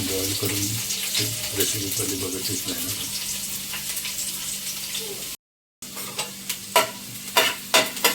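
Garlic frying in hot oil in a pan for prawn chili, a loud continuous sizzle with stirring scrapes, then a brief gap and a few sharper clatters of the spoon.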